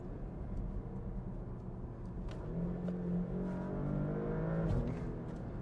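Porsche Panamera accelerating hard along a road, heard from inside as a steady, moderately loud engine drone that rises in pitch over several seconds with tire and road rumble underneath.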